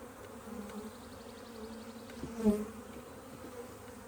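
Honey bees hover around beehive nucs in a steady, faint buzzing drone, with one bee passing close and louder for a moment midway, and no voices.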